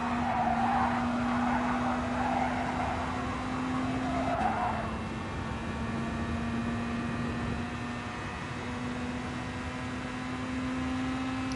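A race car engine at full throttle in Gran Turismo Sport drones with a steady high whine, tyres briefly squealing in the first few seconds before the engine note settles and holds.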